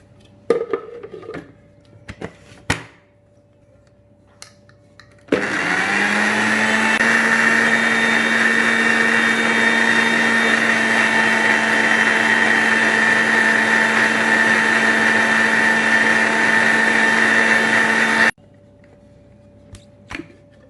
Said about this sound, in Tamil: நம்ம மிக்சர் ஜாரில் பண்ணுறதுனால மிக்சியை நிறுத்தி நம்ம சேர்த்துக்கலாம் எண்ணெயை